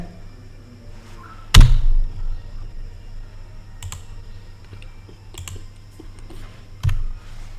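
A few crisp computer mouse clicks and a keyboard key press at a desk, isolated sharp taps with one louder click, over a low steady hum.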